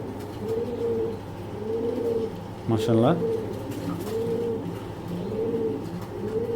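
Racing pigeons coo in low, rolling repeated phrases close by, with a man's brief spoken exclamation partway through.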